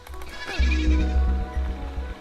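A sheep bleats in the video game Superbrothers: Sword & Sworcery EP, with a clear wavering cry that lasts about a second over a steady backdrop of soft, sustained game music tones.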